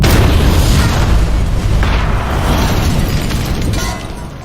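A bomb goes off in an action film about a sniper fighting drug cartels: a loud, sustained explosion with a deep roaring rumble that slowly fades over several seconds. No voices are heard.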